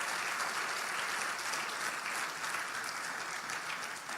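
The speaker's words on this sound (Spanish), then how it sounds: "¿Cuántos le pueden dar un fuerte aplauso al Señor?" A church congregation claps together in sustained, even applause, a dense wash of many hands filling the room at moderate volume, with no speech over it.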